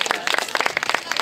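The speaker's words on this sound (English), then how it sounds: "Big round of applause." A crowd claps for the runner-up at a Survivalrun race in Uppsala, brisk scattered handclaps throughout.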